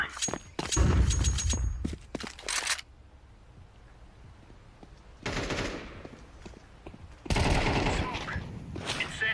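A flashbang grenade goes off in a tactical shooter game amid bursts of rapid gunfire, sharp loud blasts clustered at the start, then quieter gaps broken by two more heavy bursts of shots and impacts.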